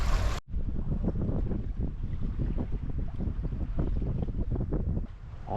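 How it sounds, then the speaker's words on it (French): A sailboat moves under a light breeze off southern Nova Scotia. Steady wind rushes over the microphone with a soft water wash beneath it, holding continuous and moderately loud after a brief break at the start. "Un beau petit vent qui nous permet de faire de la belle voile paisible"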